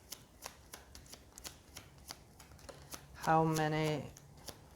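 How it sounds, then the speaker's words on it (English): A deck of cards is shuffled in a run of quick, soft ticks, then drawn one by one for a reading. A person speaks briefly over the shuffling, and a louder voiced sound rises near the end. "we'll pull out at least 3 cards"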